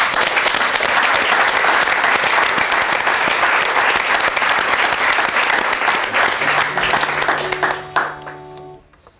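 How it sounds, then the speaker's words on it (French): Sustained applause from a live audience at a Québec stage show, dense and loud, fading out near the end as a sustained tone and a few notes begin. "Je vous demande juste de l'applaudir"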